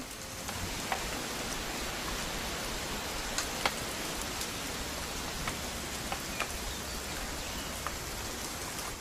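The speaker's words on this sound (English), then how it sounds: "It's gonna rain the whole weekend," Steady rain from the video game What Remains of Edith Finch hisses evenly, with occasional sharper drops ticking close by, no voices present.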